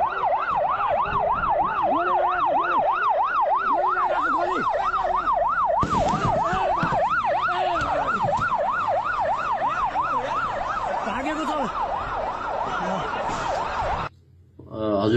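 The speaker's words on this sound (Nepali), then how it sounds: "त्यतिखेरै एउटा रातो एम्बुलेन्स आउँछ अनि त्यो एम्बुलेन्सले रोक्छ पनि।" A red ambulance arrives with its siren wailing in a steady, rapid up-and-down sweep, loud and close for most of the stretch, then cutting off abruptly near the end while traffic noise continues underneath.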